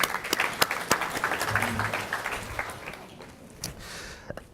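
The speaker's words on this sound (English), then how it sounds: "So give a big round of applause for Tim," Conference audience applauds a speaker, Tim Sewell, CEO of Yospace, a steady wash of many hands clapping that holds strong, then thins and tapers toward the end, with a few sharper claps standing out.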